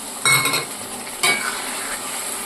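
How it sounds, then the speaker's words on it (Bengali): Gravy stirred in a pan just after water is poured in: two bursts of wet scraping and bubbling sizzle, each starting sharply and then easing into a steady simmering hiss, close and moderately loud. "নেড়ে চেড়ে এখানে এই জলটা দিয়ে দিলাম পরিমাণ মতো।"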